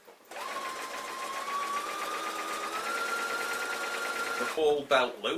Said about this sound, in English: now just back tack a few times, just basically stitch right along